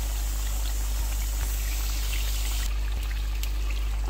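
Water pours steadily into a chicken karahi with masala gravy, a soft continuous trickle with faint stirring or pan sounds over a steady low hum, no voice.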